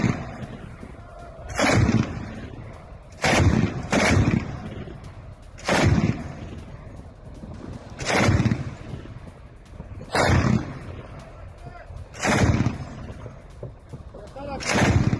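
Gunfire and artillery blasts from an attack near the Tishreen Dam in Syria, about seven heavy booming bursts at irregular intervals of a couple of seconds, with a news voice speaking between them.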